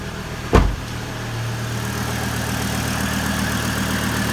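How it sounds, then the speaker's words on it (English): A Chevrolet Colorado or GMC Canyon pickup engine, freshly fitted with a new battery, starts with a brief loud burst, then settles into a steady, low idling rumble that continues evenly throughout. "I'm going to let the engine run for about 10 to 15 minutes"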